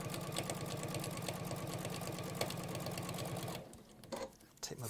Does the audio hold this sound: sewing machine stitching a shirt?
yes